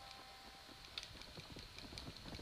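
Horse hooves clip-clop in Red Dead Redemption: Undead Nightmare, a steady run of quick hoof beats over a constant game background hum, fairly faint and without talk.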